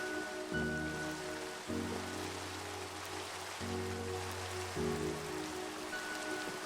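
Steady heavy rain in Minecraft pours down in a dense, continuous hiss, with a low droning tone pulsing underneath at regular intervals.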